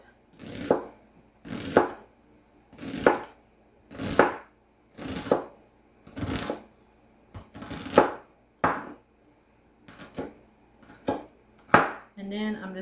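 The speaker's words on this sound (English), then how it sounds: "I just cut these up, the onion longwise, and then I'm just going to go through and cut them like this." A knife chops an onion on a cutting board in about a dozen crisp, evenly spaced strokes, close and clear, with a brief scrape at the end.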